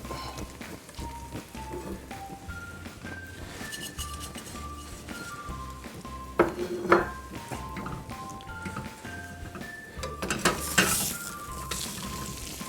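Eggs in a basket sizzle steadily in a frying pan, a constant crackle under soft music, with a spatula clinking and scraping against the pan a couple of times as the bread is flipped.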